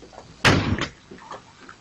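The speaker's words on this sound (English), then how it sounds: "what I heard was a guy kicking in my garage door behind me" A single heavy bang of a garage door being kicked in during a home invasion, loud and abrupt, followed by a short rattling echo and a quiet background.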